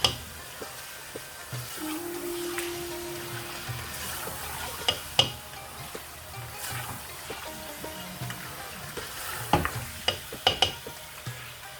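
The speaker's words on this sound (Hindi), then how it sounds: "गोश्त डाल के अच्छी तरह से इसको भूनेंगे" Mutton browns in a pan as a bhuna for achaar gosht, giving a low continuous sizzle with scattered sharp clicks and scrapes of a spoon, which grow busier toward the end.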